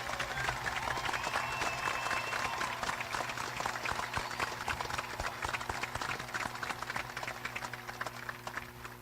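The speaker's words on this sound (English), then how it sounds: "Please join me in a round of applause." A large crowd applauds at a high school graduation ceremony, rapid broadband clapping sustained throughout, dense and moderately distant with a steady tonal hum underneath, tapering slightly near the end.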